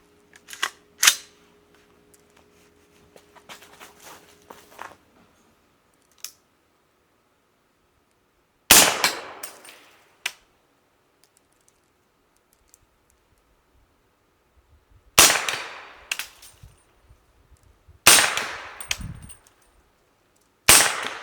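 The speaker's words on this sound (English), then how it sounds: "there was the first 5 shots" An AR-15 rifle in 300 Blackout with an LMT upper fires on a private outdoor range: sharp, loud single shots spaced several seconds apart, with quiet gaps and faint handling rustles between them.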